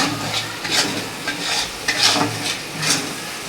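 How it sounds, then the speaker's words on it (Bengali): Masala for mutton biryani stir-fries in a pot with a steady sizzle. A spoon scrapes and clinks against the pan in repeated strokes at close range. "মশলাটা কষা হচ্ছে।"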